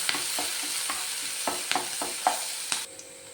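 Crushed ginger, garlic and green chili sautéing with fennel in a pan, a soft oil sizzle broken by several sharp scraping stirs of a spoon, close and fairly quiet.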